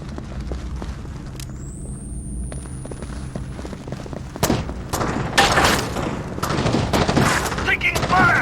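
Gunfire erupts in the Xbox game Rainbow Six 3, building from scattered sharp shots into dense, loud bursts over a low game ambience, with voices calling out during the firefight.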